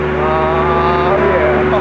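Road roller engine revving steadily and loud throughout, a droning hum that swells slightly toward the end, with excited voices talking over it.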